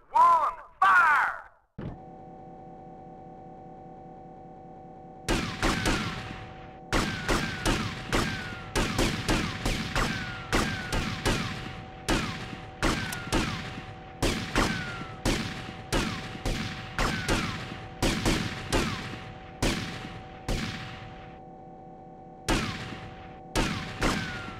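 Firing squad gunfire in the GTA: Vice City mission The Shootist, a run of loud sharp shots in irregular volleys over a steady hum, starting after a short burst of game sound and a pause.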